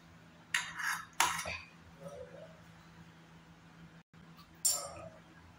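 A spoon scraping and clinking against a bowl while stirring butterscotch ice cream mixture, a few sharp close clinks over a low steady background hum, with no speech.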